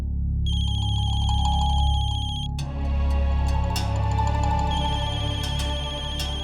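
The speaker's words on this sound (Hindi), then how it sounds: "मम्मा फोन की आवाज तो यही कहीं से आ रही है।" A mobile phone ringtone plays a bright repeating electronic melody, close and loud, then continues among other household sounds without any speech.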